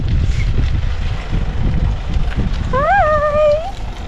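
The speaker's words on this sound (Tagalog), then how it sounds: "Mahangin pala dito, mga inday. It's very windy, ah? Today is so windy." Strong wind roars and buffets the microphone with a low, constant rumble, and a brief rising whistle-like tone sounds near the end.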